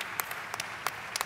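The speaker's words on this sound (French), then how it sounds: "Applaudissons ce commentaire." Audience applause at a conversation event, a brief burst of scattered clapping with a few sharper individual claps, fairly faint and distant.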